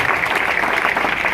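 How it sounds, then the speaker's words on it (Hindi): At a recognition program, an audience gives Prem a loud, sustained round of applause, close and continuous throughout with no talking. "एक जोरदार ताली होना चाहिए प्रेम के लिए।"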